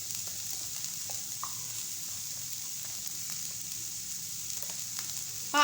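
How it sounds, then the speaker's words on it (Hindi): Capsicum sautés in a pan with a soft, steady sizzle and a few faint stirring scrapes, quiet throughout until a brief louder clatter at the end. "और शिमला मिर्च को हम सिर्फ सॉटेड करेंगे।"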